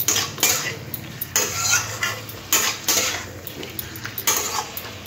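A spatula scrapes and clanks rhythmically against a metal pan as bottle gourd and prawns are stirred together, in repeated loud strokes about once a second over a low, faint background.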